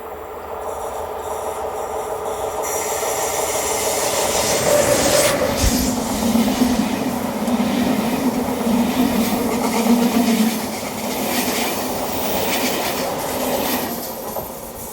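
An ÖBB Class 1216 electric locomotive hauls an eastbound Railjet train past, rising from a distant hum to a loud, steady rolling rush of wheels and carriages with rhythmic rail clatter, then easing slightly as the train continues by.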